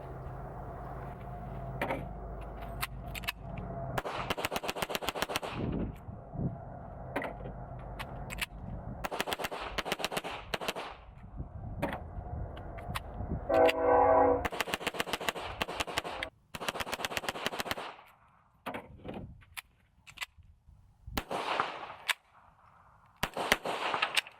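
Repeated gunshots from a Hi-Point JCP .40 pistol, loud sharp cracks fired in quick bursts with short pauses between strings, echoing over a steady low background.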